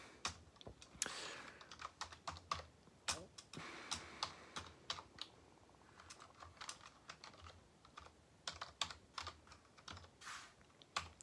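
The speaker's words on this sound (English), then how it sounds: "trying to type with one hand" Computer keyboard tapped slowly with one hand on a laptop, irregular close clicks and keystrokes with short pauses between bursts.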